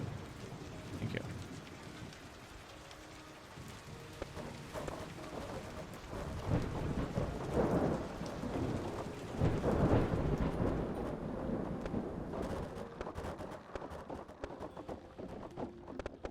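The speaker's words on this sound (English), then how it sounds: "A lot of thunder." Thunder rolls and rumbles through steady rain in the video game Kubifaktorium, swelling into heavy, loud peaks in the middle before easing back to a continuous downpour.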